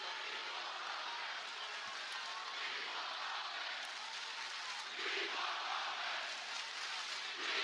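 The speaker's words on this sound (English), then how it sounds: "Interesting how the crowd is chanting for Roman" A large wrestling arena crowd chants for Roman during a Friday Night SmackDown broadcast, a dense, steady wash of voices at a distance that swells slightly near the end.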